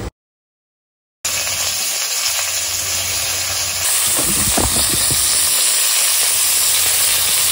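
Meat sears in duck fat in a hot pan, giving a loud, steady sizzle and hiss close to the listener that continues throughout after a brief silent start.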